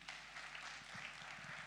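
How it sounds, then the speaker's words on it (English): Applause from a graduation audience for two speakers at a web development graduation, a steady wash of clapping held at moderate level with no talk over it. "Another round of applause to Wamai and Derito, ladies and gentlemen"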